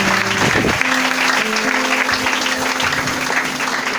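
A church congregation applauding together, a steady broadband clapping that fills the room, with sustained musical tones from a keyboard or organ audible underneath.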